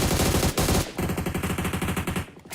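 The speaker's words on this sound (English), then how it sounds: "a lot of gunshots being fired" Rapid automatic gunfire rattles in the PUBG Mobile battle-royale game during an esports playoff match, dense bursts of shots, a brief gap, then a long steady stream of rounds, loud and close with no talk.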